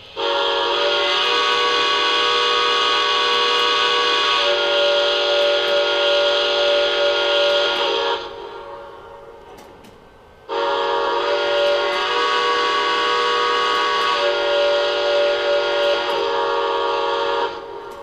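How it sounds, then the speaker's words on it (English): Two long, loud blasts of a chime-like whistle from a Lionel Legacy Santa Fe 3751 model steam locomotive, each lasting several seconds, separated by a short pause. "now we're going to listen to the whistle and the bell"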